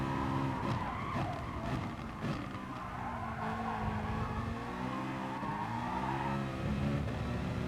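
In a racing video game, a car's tires squeal and skid continuously over a loud, steady engine drone during a Citroen against GT-R race, with no voices.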